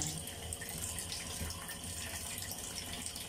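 Water pouring steadily from a tap for an elderly man's bath, a continuous broadband splashing rush that stays even and close throughout, with no voices.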